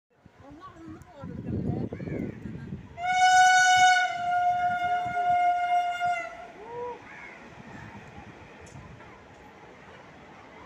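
A train sounds a loud, sustained horn blast as it approaches, then rumbles past nearby while voices murmur in the background.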